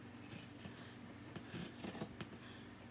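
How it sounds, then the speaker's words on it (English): Scissors cutting through the rounded corner of a fabric receiving blanket, soft close-up snips and rasping fabric sounds in quick succession, faint and intimate. "I'm going to take my scissors and round the corner off"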